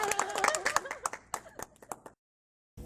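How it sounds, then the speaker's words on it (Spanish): An audience claps at a Spanish-language talk on human rights, starting with a burst of overlapping hand claps that thin into scattered separate claps before dying out, followed by a short silence. "aplauso."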